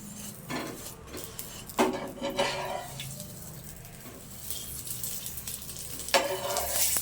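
Aloo paratha cooking on a pan with oil spread over the top, soft frying hiss with occasional clinks and scrapes of a utensil against the pan, close and moderately quiet, no talking.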